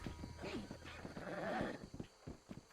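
A horse whinnies twice in a video game, with a wavering neigh rising over a busy background of rumble and clatter.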